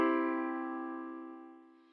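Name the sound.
piano chord played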